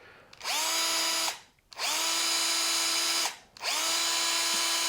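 A Festool CXS 12 compact cordless drill motor whirs loudly in three steady bursts, each spinning up fast, holding a high buzzing whine, then cutting off briefly.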